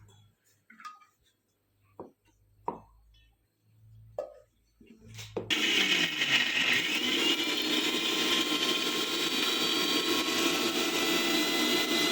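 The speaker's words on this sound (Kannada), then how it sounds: "ಈಗ ಇದನ್ನು ಗ್ರೈಂಡ್ ಮಾಡ್ಕೊಂಡ್ಬರೋಣ" A mixer grinder starts up and runs loudly and steadily, grinding soaked, washed rice with spices into pulao masala, preceded by a few scattered kitchen clicks and knocks.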